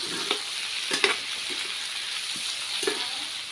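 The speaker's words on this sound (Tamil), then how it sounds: "நல்லா கொஞ்சம் நேரம் நல்லா எண்ணெயிலே வதங்கட்டும்" Onion and tomato sauté in hot oil, a steady close sizzle dotted with a few sharp spatula clicks and taps spread over a few seconds, no voices.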